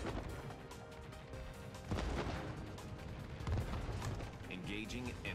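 Aircraft carrier bombs exploding in World of Warships, a rumbling stream of blasts and crashes in a busy game battle, with a voice talking over the action.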